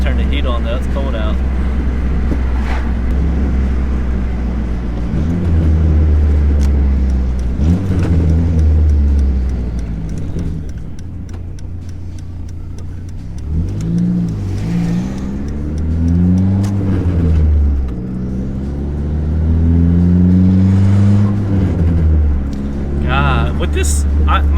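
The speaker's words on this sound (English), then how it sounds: "my exhaust cutout is closed, but this exhaust is loud" A car with a loud aftermarket exhaust, its exhaust cutout closed and solid motor mounts fitted, booms and drones from the cabin as the engine revs up and down repeatedly, under someone talking throughout.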